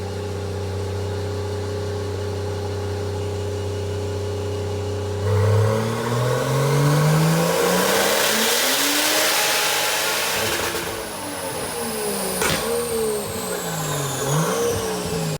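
A Toyota 2JZ-swapped Nissan R32 Skyline idles with a low, steady drone, then revs hard several times through a 3-inch exhaust with resonator and 3.5-inch tips, the exhaust roaring up and down in pitch, loud and close.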